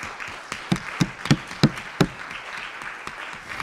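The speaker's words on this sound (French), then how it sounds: "je crois qu'on peut les applaudir" A conference audience applauds volunteers and speakers at a cooperative platforms forum, with a thin spread of claps punctuated by several louder, sharper claps near the front over a few seconds.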